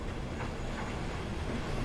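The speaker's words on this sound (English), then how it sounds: "bring the train to a stop." A steam train rolls along in Train Sim World 2, a steady low mechanical rumble of rail running at a faint, even level with no talking.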